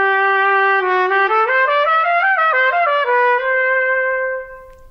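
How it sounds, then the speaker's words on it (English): A trumpet played with its mouthpiece, part of a United States Army band demonstration, plays a clear, bright sequence of stepped notes rising and falling, ending on a held tone that fades out. "When you put the mouthpiece into the trumpet, it sounds like this."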